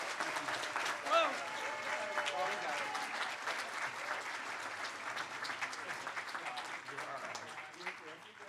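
A conference audience applauds, dense clapping sustained throughout at an even, moderate level, with a brief exclamation early on and the clapping thinning slightly toward the end.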